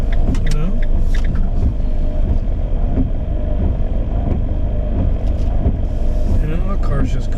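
A passing car drives up a road in rural Ireland, its engine a steady close rumble over constant road and wind noise, with people talking throughout.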